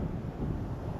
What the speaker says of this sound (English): Got a 10 mile per hour wind this morning, which is nice.